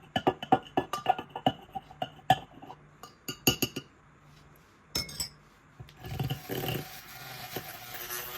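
A spoon whisks instant coffee in a cup to froth it, with a quick run of sharp metal-on-ceramic clinks and taps that fades into a softer, continuous scraping swirl. The sound is near and moderately loud.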